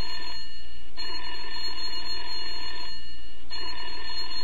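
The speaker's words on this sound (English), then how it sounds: "There's no tone, but the phone is oddly ringing." Telephone ringing in a horror video game, loud electronic ring bursts repeating in a steady pattern with brief pauses between, alone without talk.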